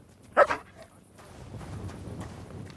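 A single short dog bark rings out near the start, followed by a low, quiet ambient rumble, in the video game Kingdom Come: Deliverance II.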